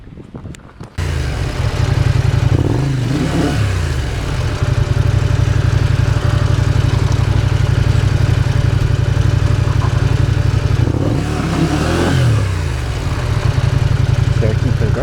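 KTM 790 Adventure motorcycle engine straining on a steep climb, a steady loud drone with two rising revving surges near the middle and end, wind rushing over it.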